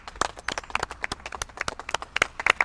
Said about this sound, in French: Félicitations, vous pouvez vous applaudir.